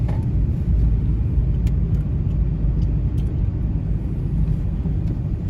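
A Citroen C3 HDi diesel with a turbo overboost fault cruises along a dual carriageway, heard from inside as a steady, loud low engine and road rumble with no letup.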